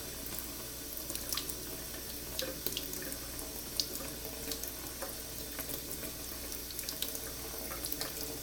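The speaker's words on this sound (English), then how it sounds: "we'll take this warm water, and the warm water is going to make the grease release its adhesiveness" Warm water runs steadily from a tap into a sink, a continuous close splashing stream with small clinks, used to loosen wax paper stuck to a greasy raw meat patty.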